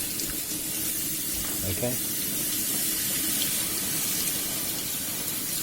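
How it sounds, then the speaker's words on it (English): Cold tap water pours steadily over a hot pressure cooker in a kitchen sink to cool it, a continuous hissing splash with a brief spoken word over it. "Just put it under the tap like that."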